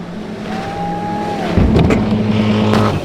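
A boat's outboard motor runs hard at wide open throttle toward a floating jump, a steady loud drone with a whining tone, then a sudden rough, broadband burst as the hull hits the ramp, with wind rushing throughout.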